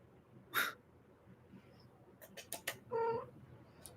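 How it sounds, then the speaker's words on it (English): A cat gives a few soft, short cooing chirps, pigeon-like rather than a meow, spaced across quiet moments with faint breathing. "She makes noises and it's like a pigeon noise."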